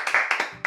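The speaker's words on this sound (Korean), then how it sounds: "박수 한번 칠까요?" Two hosts clap their hands together in a brief round of about four sharp, close claps.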